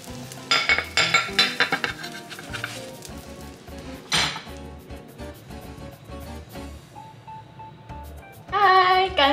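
Metal utensils clink and scrape against a pan and dishes in a quick flurry, followed by quieter kitchen clatter as a parsley cheese omelette is slid onto a plate.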